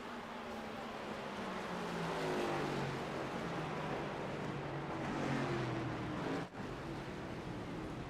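Several race cars from a FUN League championship race in Phoenix roar across the finish line together, a dense layered engine drone with overlapping revving harmonics, steady and fairly loud, with a brief dip near the end.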